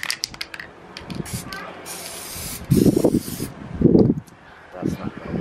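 Aerosol spray can hissing outdoors on a windy day, with a few short bursts of spray among gusts of wind noise and a person talking in between.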